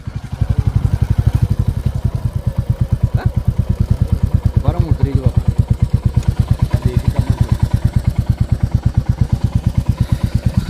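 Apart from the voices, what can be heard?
motorcycle engine idling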